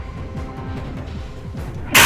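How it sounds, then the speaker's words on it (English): A sudden, sharp human sneeze bursts out at the very end, loud and close, after a stretch of quiet low background game sound. "I had to sneeze there."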